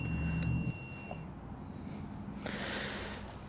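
Short electronic beeps from a timing light repeat at a steady pace over loud engine noise from a Honda CB360 motorcycle, the tones thin and high, partly buried under the running motor.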